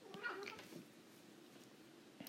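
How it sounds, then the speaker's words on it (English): A house cat gives a short, faint meow in a quiet indoor room, heard alone against low background hiss. "Excuse me, that's the cat."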